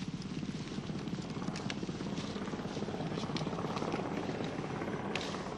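A military helicopter arrives to land at a cleared spot in the bush during the 1979 Rhodesian war, its rotor thudding steadily and continuously under a broad engine roar, moderately close and unchanging throughout.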